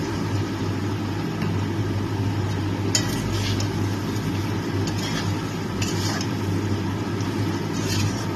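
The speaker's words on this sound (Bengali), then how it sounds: "একটু লাল করে ভেজে নেব এই আলুগুলোকে" Potato pieces fry in a pan with a steady low sizzle, joined by occasional scraping and stirring clatter over a constant background hum.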